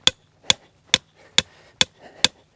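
Six sharp, evenly spaced hammer blows strike a trap stake, driven with a small hammer, each a crisp loud knock with brief ringing, close by.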